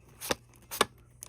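Two quick riffle-shuffles of Pokemon trading cards, each a crisp papery burst about half a second apart, close and fairly quiet, with a faint third flick at the end.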